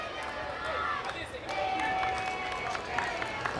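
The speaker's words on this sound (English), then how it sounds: "Cheering the team on." Crowd at a Little League softball game between Bologna, Italy and Repentigny, Quebec, a steady wash of distant cheering and chatter with a few claps, under a commentator's voice throughout.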